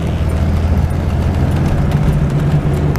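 The six-cylinder engine of a 1963 Corvair Monza gives off a steady low rumble, loud and continuous, heard from close by in the car without pauses or talk.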